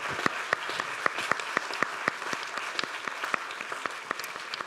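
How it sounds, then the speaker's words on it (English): A forum audience of farming professionals applauds the panelists: a steady patter of many hands clapping at moderate distance, with sharp individual claps standing out over a diffuse wash, sustained throughout. "can I please have a round of applause for our panelists?"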